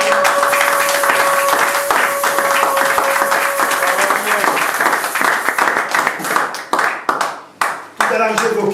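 A church congregation claps and cheers for the Lord during a French-language worship service, a dense, loud burst of applause that thins into scattered claps toward the end, with a sustained tone underneath at first.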